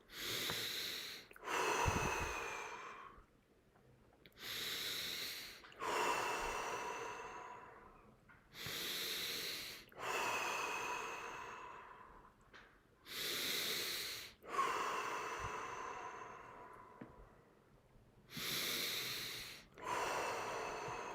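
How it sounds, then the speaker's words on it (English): Deep breaths during a guided breathing exercise, with slow inhales and long, hissing exhales repeating in a steady cycle, close and fairly quiet with no speech. "Breathe in with awareness. Deep breath."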